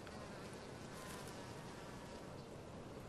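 Wasps drone around a piece of cake outdoors, a faint, continuous high buzzing hum with no voices.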